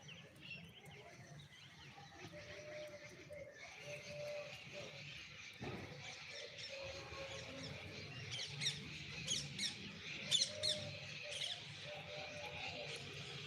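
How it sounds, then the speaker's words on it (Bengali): Many birds chirp and call around a rooftop beside a neem tree, faint at first and then in brighter, busier bursts toward the end, over a low steady background hum with no talking. "ছাদের পরে আসলে অনেক পাখির আওয়াজ শোনা যায়"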